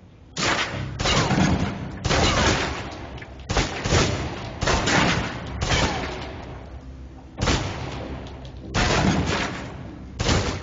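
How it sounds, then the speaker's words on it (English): A submachine gun in the video game Alpha Protocol fires rapid bursts, with about eight loud close sustained volleys separated by short pauses. "Now, let's move on to the submachine gun. Now let's empty the clip."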